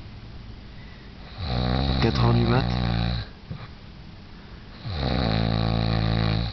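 A person snoring loudly at night, at 4 a.m., with two long rasping, guttural inhales separated by quieter breathing, close and dominating the background; a voice speaks briefly in the quiet gap.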